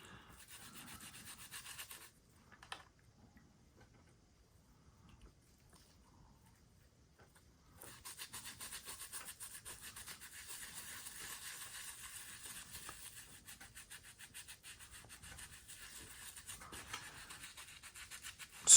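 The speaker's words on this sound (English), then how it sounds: "Scrubbing gently" Scrubbing stubborn paint off a model body, a soft steady rubbing and brushing that starts after a quiet pause and then continues close and even until the end.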